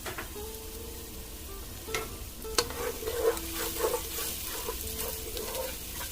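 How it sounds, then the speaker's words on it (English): Garlic sizzles softly in a pan, with a steady low frying hiss and occasional scraping taps as a utensil stirs it. "Now we're going to go ahead and add the garlic down in there. Let that sweat for just a few."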